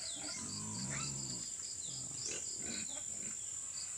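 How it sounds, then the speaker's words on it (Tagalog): A native sow on a muddy provincial farm gives several grunts and squeals at a moderate distance, set against constant insect buzz and a steady high whine. "kinuha na ng may-ari yung kanyang inahing baboy na pinapulugan niya"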